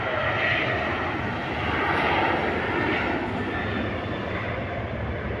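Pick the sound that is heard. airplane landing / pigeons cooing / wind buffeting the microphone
airplane landing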